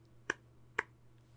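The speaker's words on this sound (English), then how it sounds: "every time I clap my hands twice" Two sharp hand claps about half a second apart, close and crisp over a low steady hum, then quiet.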